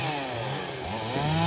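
Several chainsaws cut wood at a busy site where a crowd loads a truck, the engines whining steadily and loudly with shifting pitch throughout, layered over one another.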